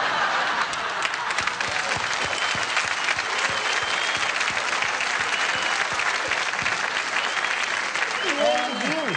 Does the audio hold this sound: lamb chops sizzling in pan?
no